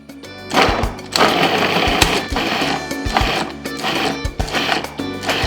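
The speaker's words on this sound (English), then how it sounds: "So we're just gonna pulse this a few times." A food processor chopping vegetables for Bolognese sauce in short pulses, about five loud motor bursts separated by brief pauses, close to the microphone.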